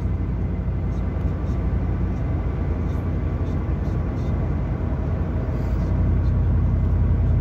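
A deep, steady truck exhaust rumble through an 8-inch glass pack muffler drones continuously at moderate volume, a low throaty cruising sound with no revving peaks.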